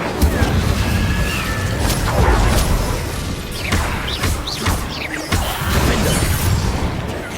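Incendio fire spell cast repeatedly in the video game Hogwarts Legacy, giving loud booming bursts and whooshing flame blasts that crash one after another over steady game noise, with no talking.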